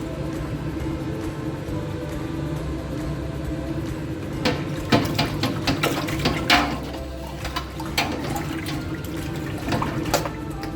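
Water runs into a sticky malt extract can to rinse it out while brewing a Mangrove Jack's Liberty Golden Ale, with clattering handling noises and a steady pouring wash throughout, close and moderately loud.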